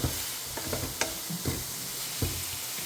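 Vegetable cutlet mixture with banana flower is stirred in a frying pan, giving a soft continuous sizzle broken by several distinct scraping strokes.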